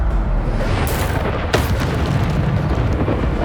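Spell impacts in Hogwarts Legacy: a dense, loud, rumbling barrage of booms and crashes with a couple of sharper bursts layered over a continuous roar of combat noise, no speech.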